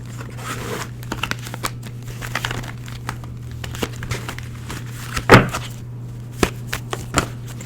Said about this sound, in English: Bear with me as I continue to shuffle.